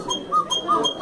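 A small baby cuckoo whistle from a Black Forest, Germany cuckoo clock shop gives quick repeated whistled cuckoo-like notes, close and fairly loud, with faint background murmur.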